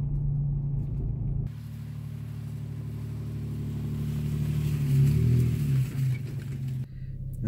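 A car driving slowly through deep, wet snow on a mountain pass, a low rumbling engine and slushy tire noise that builds and surges midway, then drops off abruptly near the end.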